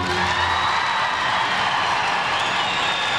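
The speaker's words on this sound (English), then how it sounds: "But the hometown crowd, some of them on their feet, very loud here." A hometown arena crowd at a 2000 Cup of Russia figure skating competition, some on their feet, roaring and cheering in a dense, sustained wall of noise with no pauses.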